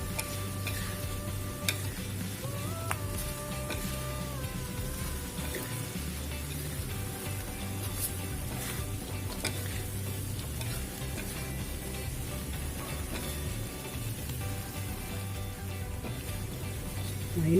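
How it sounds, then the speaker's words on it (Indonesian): Fried potatoes and chicken gizzards in chili paste being stirred in a pan for sambal goreng kentang, with a steady close sizzle and soft, irregular scraping of the utensil throughout. "Kita aduk hingga agak mengering ya teman-teman."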